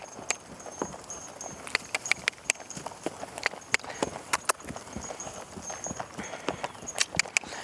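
A horse trots in a steady two-beat rhythm, the hoofbeats sharp, close and regular against a quiet background.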